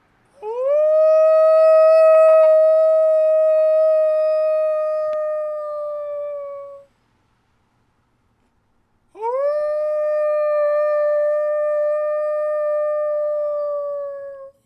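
Outdoors at night, a person imitates a wolf with two long, loud, sustained howls. Each howl rises at the start and then holds steady, with a short pause between them.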